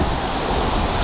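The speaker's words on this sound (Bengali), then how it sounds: "এই হলো ঢেউ বকখালি" Sea waves at Bakkhali beach, a loud, close, continuous wash of surf mixed with wind rush, with no voices heard.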